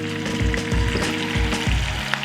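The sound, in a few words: steak sizzling in pan while basted with melted butter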